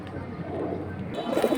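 Pigeons coo softly at a breeder's loft, a low murmuring call that swells slightly near the end, with faint background noise and no clear talk over it.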